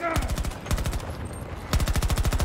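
Rapid automatic gunfire in the video game Battlefield 2042, two loud bursts of quick evenly spaced shots with a short pause between them.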